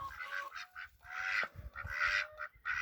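Two pet ducks calling in a backyard, repeated loud honking quacks in bursts close by, with brief pauses between calls.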